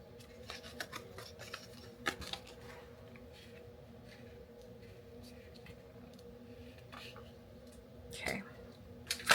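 Scissors snipping patterned patchwork paper and white cardstock for a quilt-themed greeting card, with soft, faint intermittent cuts and a few sharper clicks over low room noise.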